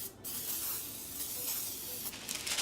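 Cooking spray hisses into a baking pan for an Irish coffee coffee cake, a close, sustained spray with brief stronger bursts near the start and end, no voices.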